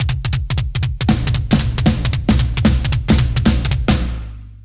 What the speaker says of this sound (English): you can try it on the floor tom and the snare